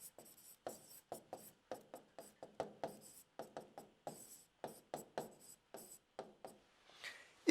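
A pen writing by hand on paper: steady, close scratchy strokes in a quick irregular rhythm of short bursts, with no talking.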